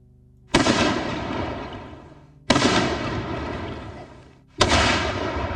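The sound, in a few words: gunshots and explosions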